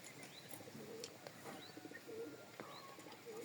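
Pigeons at a fancier's loft coo softly over and over, low rounded calls repeating among scattered chirps and small flutters, at a moderate distance.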